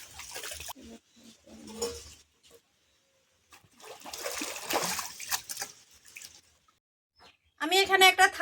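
Live singhi fish are rinsed in water, with a few short splashing, pouring bursts separated by quiet gaps, followed by a brief voice at the end.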